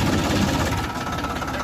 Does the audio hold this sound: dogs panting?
no